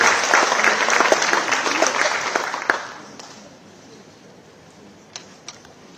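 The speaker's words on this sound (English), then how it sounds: "A big hand of applause to His Excellency." An audience at an official charter-signing event in Nairobi claps loudly for about three seconds. The applause then thins into a quiet room with a few scattered claps.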